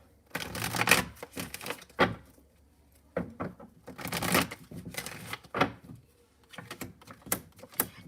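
Tarot cards shuffled and riffled in bursts of crisp, papery flapping with brief pauses between, close and fairly loud, with no voices.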